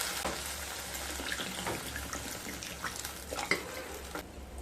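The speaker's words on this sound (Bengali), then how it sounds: "এবার পরিমাণ মতো জল দিয়ে দেব।" Water poured into a pan of well-sautéed vegetable curry for paporer dalna, a steady splashing and sizzling pour heard up close with clinks of a utensil, no talk.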